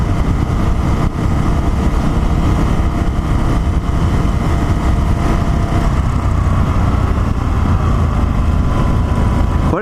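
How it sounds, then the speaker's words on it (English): A 2020 Indian FTR1200 motorcycle idles through its exhaust, a steady, loud, close-up engine drone with an even rumble that holds unchanged for about ten seconds, with no talk. "I thought there would have been a little bit more sound coming out of this exhaust"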